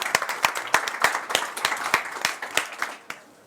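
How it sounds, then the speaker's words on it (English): Clapping from a small audience at a London startup pitch-battle event, with distinct sharp claps in an irregular patter that thins out and stops near the end, close and fairly dry. "So let's give them a round of applause, please."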